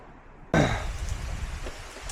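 Steady rain falls outdoors in misty hills near Lakatnik, a broad hissing wash that starts abruptly and continues close and even, with a few louder drops.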